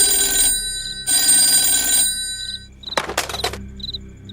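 A household telephone bell rings in two long, loud bursts with a pause between, followed by a short clatter of handling knocks and faint high chirps in a quiet room.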